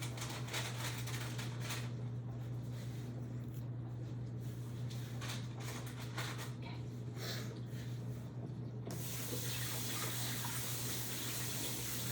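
Hands being washed under a running kitchen tap while making cinnamon rolls, a steady broadband rush of water with a low hum beneath it, continuous throughout with brief splashes and clatters.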